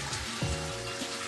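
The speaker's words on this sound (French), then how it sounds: "Quand il tire la chasse," A toilet flushing with part of its water held back by a bag placed in the cistern, producing a steady rush of water with gurgling tones, nearby and moderately loud with no talking.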